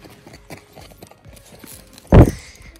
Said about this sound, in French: Oui, il y a un cheval.